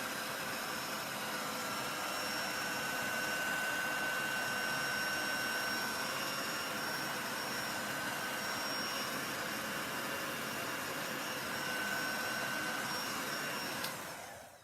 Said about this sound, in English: I'm going to use my heat gun. Dry off that chalk paste real quick.